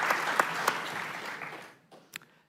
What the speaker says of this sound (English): I would like an applause for it, please.